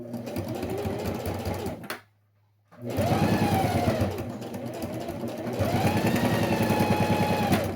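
A sewing machine stitches rapidly to reinforce the seams of a small fabric pouch, running in loud, steady bursts with one brief silent pause between runs and no voices.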